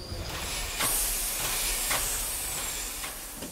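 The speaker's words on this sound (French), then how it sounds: "La vapeur, c'est magique." An old steam locomotive lets off a loud, continuous hiss of steam close by, with a few sharper bursts rising out of the broad rush. No one speaks.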